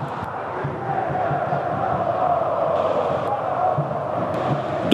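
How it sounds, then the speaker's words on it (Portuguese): Corinthians supporters chant loudly and continuously at Arena Corinthians during a Libertadores match against São Paulo, a massed crowd roar with a sustained sung tone that swells slightly midway. "Canta forte a torcida do Corinthians na Arena Corinthians."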